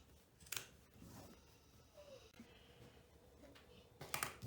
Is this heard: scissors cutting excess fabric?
yes